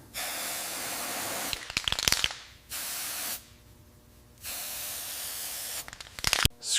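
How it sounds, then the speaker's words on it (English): Carb cleaner sprayed in long hissing bursts onto a 1960s Mini Cooper S part coated in varnish sludge, several sustained sprays separated by pauses and short rattling handling noises. "Carb cleaner works."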